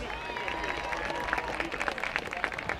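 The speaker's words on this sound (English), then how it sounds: "Another round of applause for Grace." Crowd applause in the stands at a high school football game between the Trenton Central Tornadoes and the Robbinsville Ravens, steady scattered clapping outdoors with a few cheers mixed in.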